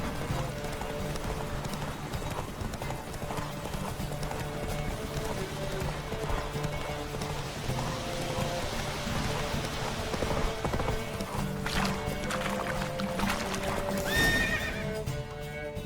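Roach, Geralt's horse in The Witcher 3, gallops with steady clip-clop hoofbeats under a constant ambient game soundscape, then gives a loud, high whinny near the end.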